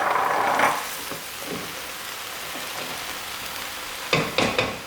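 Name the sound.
stirring vegetables in a frying pan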